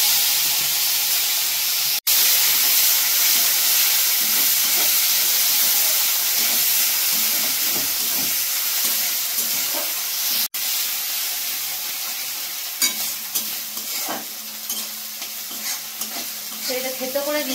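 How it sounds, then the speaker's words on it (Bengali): Crushed ginger, onion, garlic and tomato hit hot oil with panch phoron spices in a pan, giving a loud, close, continuous sizzle with stirring scrapes and a couple of sharp clicks. "এরপরে দেবো দেখো থেতো করা আদা, পেঁয়াজ, রসুন আর টমেটো দিয়ে দিচ্ছি।"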